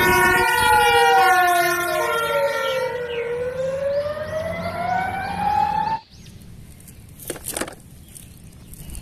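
A toy fire truck's wailing siren sweeps down and back up for several seconds, then cuts off abruptly, leaving faint clicks and handling noise.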